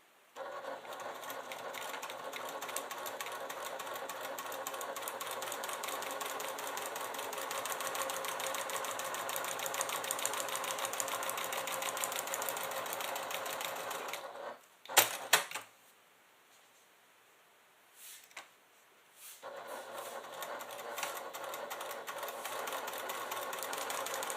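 A sewing machine stitches leather with Tex 45 thread in a long, continuous, close run of rapid needle clatter. It stops abruptly for a few seconds of near silence with small clicks, then resumes. No one talks.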